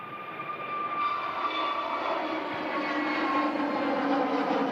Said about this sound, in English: a Turkish low-cost carrier, heading back to Istanbul. Mega departure.